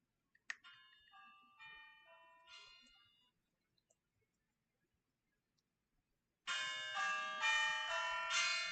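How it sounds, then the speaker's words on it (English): A phone ringtone that sounds like Christmas bells plays in bursts of bright, ringing chime notes, a few strikes followed by a quiet pause, then a louder, sustained run of layered bell tones close by. "Sorry, that's my phone. It sounds like Christmas bells"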